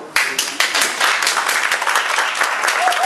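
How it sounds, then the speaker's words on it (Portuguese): Loud, dense applause from an audience, many hands clapping together, steady and close throughout. "Palmas para Paulo Freire"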